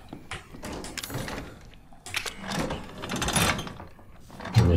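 A door opening in the horror game Resident Evil 7, heard as a run of creaks, knocks and clatter over a few seconds with a louder thud at the end; no one speaks.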